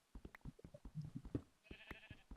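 Sheep bleating in a survival video game, a run of short rhythmic bleats and clicks with one sustained higher bleat near the end, fairly close and alone without speech.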